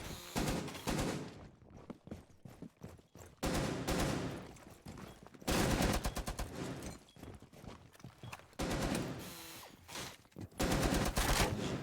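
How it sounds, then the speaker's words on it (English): Sustained light machine gun fire in Rainbow Six Siege, long loud rapid bursts broken by short pauses as a player shreds walls, each burst a dense rattling stream of shots. "Mac just wiping out all the walls he can with that LMG"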